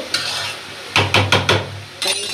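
Flat beans and potatoes fry in a pan while a utensil stirs them, giving four or five sharp scraping strokes in quick succession over a steady low sizzle, close and loud.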